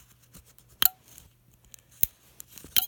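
A vintage Star Wars R2-D2 toy's head is turned, giving a few sharp, dry plastic clicks spaced about a second apart, close up and alone.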